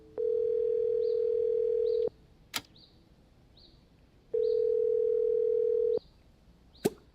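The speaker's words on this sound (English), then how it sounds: "I'm going to dial her phone number right now" A telephone ring-back tone sounds on a call placed to a phone number, two long steady tones separated by silence, each followed by a brief click, with no talk over them.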